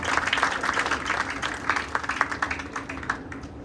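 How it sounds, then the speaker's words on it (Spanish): A church congregation claps in welcome for a visiting preacher, a steady patter of hands over a room murmur, with scattered louder claps near the end. "Así es que recíbalo con un aplauso, puede darle palmas."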